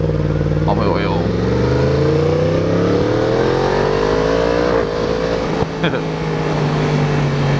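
A Yamaha MT10 motorcycle engine revs and pulls away, a loud, close, rising engine tone that climbs and shifts over several seconds, with voices talking over it.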